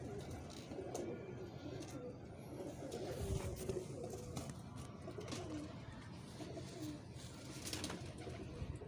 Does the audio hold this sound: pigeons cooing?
yes